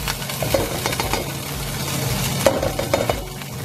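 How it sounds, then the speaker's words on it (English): Great Value corn is stir-fried in a pan, giving a steady close sizzle. Scraping and clinking stirs break through it at irregular moments. "Then I'm going to take the corn, great value corn. Almost going to be like stir fry corn."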